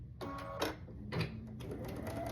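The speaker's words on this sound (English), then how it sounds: "So we're going to sew that seam" A sewing machine stitches a quilt block seam for a Sunbonnet Sue quilt, running in short bursts of mechanical whirring that start and stop, close and moderately loud, with no talk over it.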